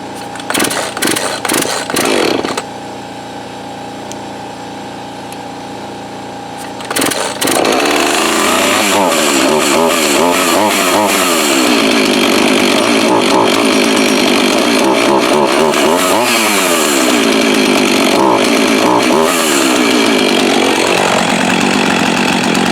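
A Husqvarna 445 chainsaw, freshly carb-cleaned, sputters briefly, then runs loud and steady close by while warming up, its engine note wavering with small surges.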